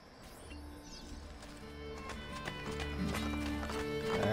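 Horse hooves clip-clop in a steady trotting rhythm in the Assassin's Creed Brotherhood video game, fairly close and growing slightly louder, with a short neigh and light ambient game sound behind.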